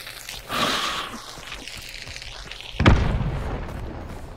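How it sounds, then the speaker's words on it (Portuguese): A grenade explodes in the Hunt: Showdown video game, one sharp, loud blast near the three-second mark that rolls into a fading rumble, after quieter rustling and movement. "eu vou jogar uma granada"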